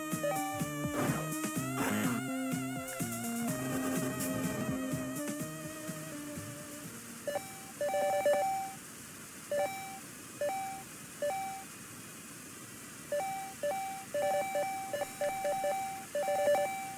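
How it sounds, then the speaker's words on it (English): Short repeated electronic beeps from the game Axiom Verge 2 sound in quick pairs at a steady rhythm, clear and moderately loud, after a stretch of layered game music. "that beep feels maybe a little bit much to me"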